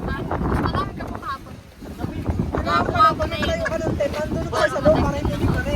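Strong wind buffets the microphone in a constant roar while people talk over it, with a low engine rumble underneath.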